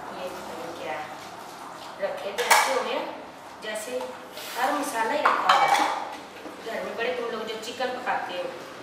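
Dishes, pots and cutlery clink and clatter during washing, with irregular bursts of metal and ceramic knocks while people talk nearby.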